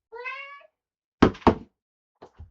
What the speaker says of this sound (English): Here comes Murr, the emotional support cat.